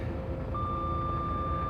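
A heavy truck, stopped, gives off a steady high electronic beep that starts a moment in and holds, over a constant low idling engine rumble.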